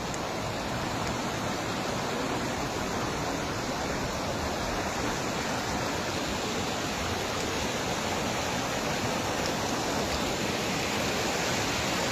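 Overflowing village lake water rushing past in a steady, loud, broadband roar, constant and close throughout with no talk over it.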